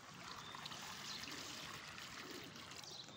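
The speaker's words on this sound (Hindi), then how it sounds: "पानी डाल रहा है।" Water pours steadily into a metal basin for pigeons, a continuous splashing trickle heard close and fairly quiet, with no talking.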